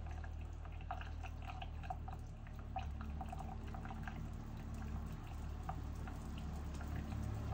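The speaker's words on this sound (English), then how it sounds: "now we'll open up the faucet here" Water runs steadily from an RV faucet drawing from a jug while winterizing a Keystone Bullet 243 trailer, with a low rushing hiss, small irregular splashes and drips scattered throughout, at moderate level with no talking.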